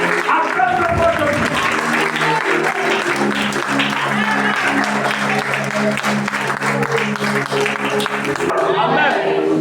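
A church congregation applauds and cheers in praise, a dense, loud wash of clapping sustained throughout, with voices and shouts mixed in and sung or spoken worship underneath.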